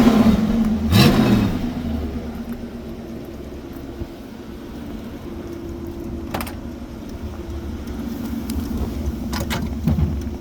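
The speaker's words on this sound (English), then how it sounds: "We'll give it a little gas so we can hear, and then we'll go for a ride." A red 1966 Ford Mustang convertible, freshly restored, idles at a dealership with a steady low rumble, then gets a few brief revs that swell and fade, the engine heard close up with no talk.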